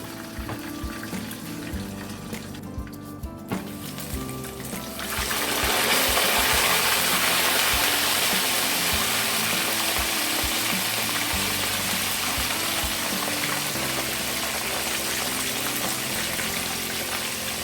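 Plantain slices frying in hot oil for Haitian bannann peze, a dense steady sizzle that swells louder after a few seconds and crackles on close up with no talking.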